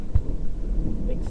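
Low rumbling thunder rolls steadily through a big tropical storm, a continuous deep grumble with a brief stronger thump near the start, heard alone without talk.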